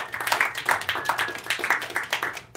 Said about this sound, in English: Give yourselves a big round of applause for coming out